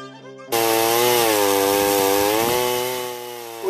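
Chainsaw fitted with a log wizard cutting into a log for a dugout canoe: after a quieter idle it revs sharply into a loud, sustained close whine that bogs slightly under load.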